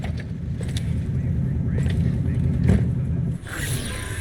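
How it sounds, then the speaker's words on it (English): A car engine idles in Cyberpunk 2077, a steady low rumble filling the scene with a brief whoosh near the end, while game characters talk over it. "I'll keep the engine running in case of a cock-up."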